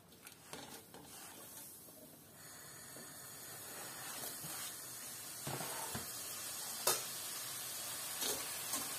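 Soft chak-chak dough fries in hot oil inside a colander, a quiet steady sizzle and hiss that builds slightly over time, with occasional clinks and stirring sounds close by.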